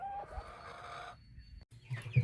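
Young chickens in a brooder room give soft, scattered clucks and chirps at close range, with a brief high call near the start and louder low clucks toward the end.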